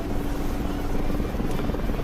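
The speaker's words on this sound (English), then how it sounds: "VTOLing one of these big helicopters." A big helicopter in a war video game gives a steady, loud rotor and engine roar that fills the whole moment without a break, with no talking.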